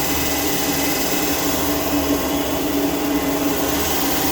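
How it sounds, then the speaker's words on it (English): An Okamoto IGM 15NC CNC internal grinder spindle runs at 1,000 RPM, giving a loud, steady, unbroken whine and whir with a low hum underneath, constant throughout and heard close up without voices. "IGM 15NC spindle running at"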